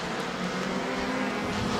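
Stock cars race around a short track at a weekly racing event, a faint, steady engine roar from the pack held from start to end with no one speaking.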